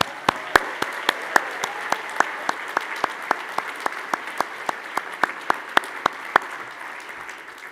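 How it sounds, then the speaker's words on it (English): At a Cooper Union commencement ceremony, distinct individual claps ring out sharply at a steady rhythm over a softer bed of scattered clapping, moderately faint and tapering toward the end. "Let's give them a big round of applause."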